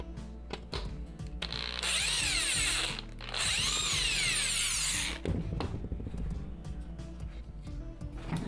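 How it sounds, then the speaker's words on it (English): A power drill drives screws partway into wood to hold a plate in place, with two sustained whirring runs of rising and falling pitch, close and moderately loud, set among clicks and handling noises. "I'm just gonna get the screws part of the way through the wood so that this plate stays in place"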